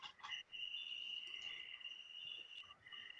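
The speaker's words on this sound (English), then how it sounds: "It's cricket." Crickets chirp in a faint, continuous high trill with a few brief extra chirps layered on top, in an otherwise quiet setting.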